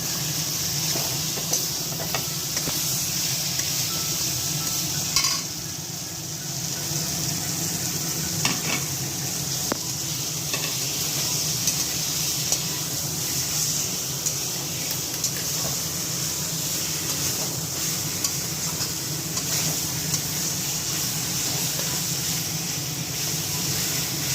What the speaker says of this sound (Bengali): এবার আমি চিকেনটা দিয়ে দিচ্ছি